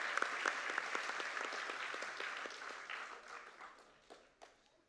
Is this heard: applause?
yes